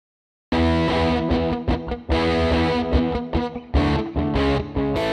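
A Fender '57 Bandmaster amp with echo and a light plate reverb, driven by a distorted electric guitar playing chords and riffs. The tone is loud and saturated, with decaying echo tails between the phrases.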